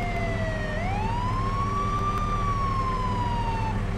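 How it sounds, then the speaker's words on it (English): A loud electronic fire truck siren in Farming Simulator 22 dips, then sweeps upward and slowly falls again in one long wail, over a constant low engine rumble. "Slightly different siren on that one"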